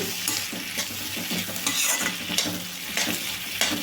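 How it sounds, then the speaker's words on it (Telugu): Tamarind and fresh coriander frying in a pan make a loud, close, continuous sizzle, with repeated stirring scrapes and rustles throughout and no voices. "చింతపండు కొత్తిమీర వేసాం కదండి ఒక్క నిమిషం పాటు అయితే వేపుకున్నాము"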